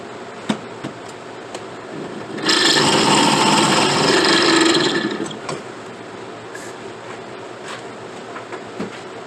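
Briar pipe bowl for a Danish egg pipe being drilled out on a lathe chuck, a harsh grinding rasp swelling for about three seconds over a low machine hum, with scattered small clicks before and after.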